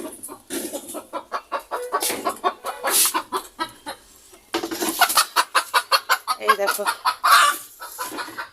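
A hen clucks in loud rhythmic bursts after laying an egg, near and repeated in quick runs with a short pause midway, while a person speaks briefly.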